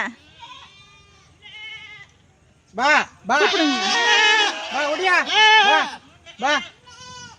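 Goats bleat loudly on a farm, with repeated harmonic cries, several overlapping in a long chorus in the middle, and a few shorter separate calls before and after.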